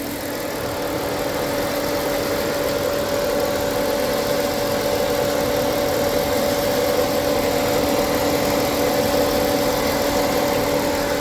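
A 1997 Dodge Grand Caravan SE engine, left abandoned for over four years, idles with a surge, a steady close droning hum that holds for about eleven seconds with no speech.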